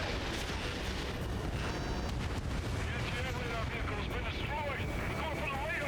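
Missile launch and explosions in the jet combat video game Ace Combat 7, with continuous dense booms and whooshing bursts over steady game noise, while a voice talks over the action.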